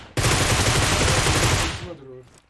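Video game gunfire, a dense, loud, continuous burst of rapid shots lasting under two seconds, then cutting to near silence with a faint tail.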